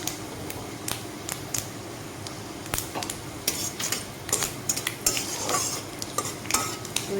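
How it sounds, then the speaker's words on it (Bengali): Panch phoron spices frying in the leftover oil from frying eggplant for begun bahar, with a steady low sizzle under irregular sharp clinks and scrapes of a spoon stirring against the pan. "ওই বেগুন ভাজার তেলেই আমি ফোড়ন দিয়ে দিব"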